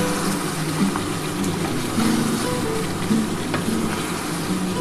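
Spicy mutton kosha fries in oil with a loud, dense, continuous sizzle and occasional faint stirring sounds.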